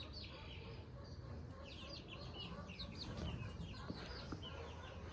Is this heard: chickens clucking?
yes